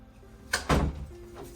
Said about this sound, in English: You put the door anchor through the top of your door